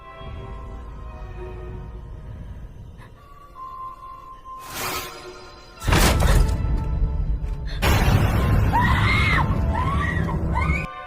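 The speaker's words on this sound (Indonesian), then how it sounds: "Bu Tuti menjerit panik" A woman screams in panic in an Indonesian horror film scene, with loud thuds and crashes cutting in before long, wavering shrieks near the end.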